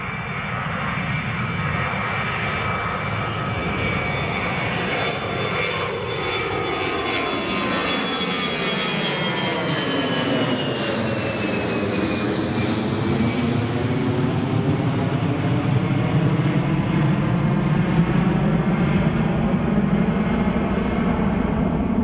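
An EasyJet airliner takes off at Newcastle Airport, its engines a loud, steady roar that swells and shifts pitch as it passes close by, with no talk over it.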